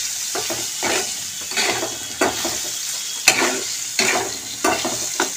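Soybean chunks frying in oil in a pan, a loud steady sizzle broken by rhythmic scraping stirs roughly every half second, close up with no talk.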